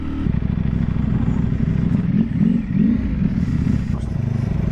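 A 2023 Ducati Panigale V4R motorcycle engine runs nearby with a deep, throbbing idle and a few short revs in the middle, with some talk partly over it.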